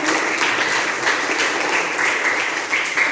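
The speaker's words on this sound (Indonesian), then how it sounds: "Oke, kasih tepuk tangan." A classroom of students applauds during an Indonesian language lesson, a steady, dense burst of clapping filling the whole stretch at close range with no pause.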